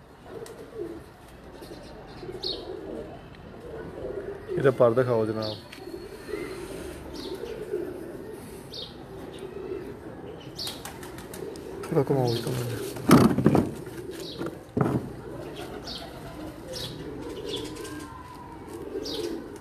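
Breeder pigeons kept in a loft give low coos and a few sudden bursts of wing flapping at close range, heard under the steady conversation of men.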